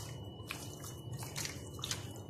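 Chicken pieces are mixed with masala by hand in a home kitchen, making soft, wet squishing and slapping sounds that continue steadily and close up.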